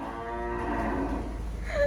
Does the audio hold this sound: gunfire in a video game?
no